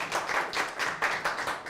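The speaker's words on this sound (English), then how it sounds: "So let's give them one round of applause as we leave." A lecture-hall audience claps in a quick round of applause at the end of a class session, dense overlapping hand claps that rise and fall in short bursts with no voices.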